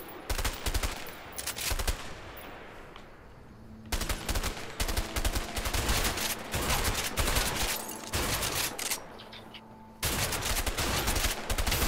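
An MP5 submachine gun fired in the video game A Way Out, in loud rapid bursts separated by short pauses. The sharp reports cut off abruptly, with stray ricochet-like pings and a faint tonal hum between volleys.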